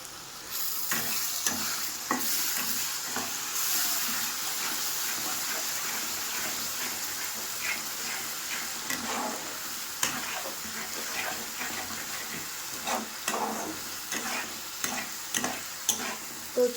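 Spices with turmeric frying in oil for a gravy, stirred steadily in the pan with a continuous close sizzle broken by frequent scraping strokes of the spoon, no voices.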